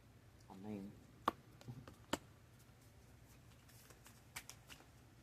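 Tarot cards are shuffled in a few short, sharp riffles and taps, near and fairly quiet, with a brief murmur of speech early on and no other talk.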